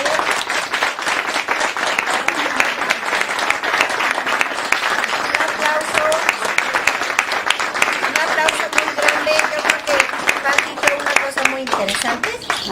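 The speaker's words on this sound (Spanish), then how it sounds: "Yo creo que merecen un aplauso muy grande." Audience applause after a fourth-grade school timeline performance, sustained dense clapping that stays steady for the whole stretch, with voices talking faintly underneath.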